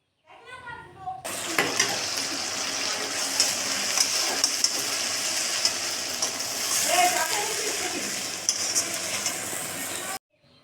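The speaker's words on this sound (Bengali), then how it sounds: "মশলাটা আমার কষানো হচ্ছে আস্তে আস্তে" A cumin-laced spice paste for ghugni sizzles steadily in a pan while being stirred, a close, continuous frying hiss with scraping; a voice is briefly heard just before it starts.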